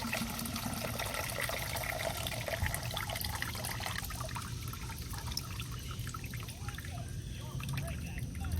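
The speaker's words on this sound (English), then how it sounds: "I'm gonna try to drain the other side, the other hoses, and the reservoir" Coolant draining from a hot motorcycle radiator during a coolant change, a steady liquid trickle and pour running continuously under a broad wash of noise, with no clear talk over it.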